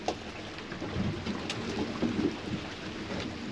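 Rain falling steadily on a small fishing boat out at sea, a dense soft hiss and patter with low water and hull rumble underneath, continuous and close with no talk.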